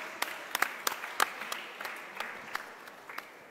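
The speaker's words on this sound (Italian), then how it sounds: "anche a lui dobbiamo fare un applauso" Sparse applause from a small audience at a Campania biodiversity pizza event: a few scattered individual claps, fairly quiet and irregular, with a faint room hum and no talking.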